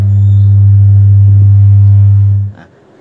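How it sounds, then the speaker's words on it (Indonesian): A steady 100 Hz test tone plays loud through a small OCL 504 power amplifier, a pure sustained hum that holds constant and then cuts off abruptly near the end. "nah ini adalah suara frekuensi 100 Hz"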